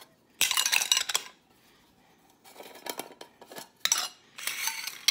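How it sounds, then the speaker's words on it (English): Metal tins and their lids clink and scrape on a kitchen counter, with several separate bursts of bright metallic rattling and small clacks, close and fairly quiet, with near-silent pauses between them. "I'm just gonna take these and open them up. Put the lids in one place and put my tins in the other."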